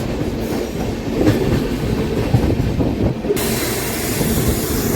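Heard from on board, the Chennai–Nizamuddin Duranto superfast express rolls fast with a steady low rumble and repeated wheel clacks over the track, a faint squeal now and then, and no one speaking.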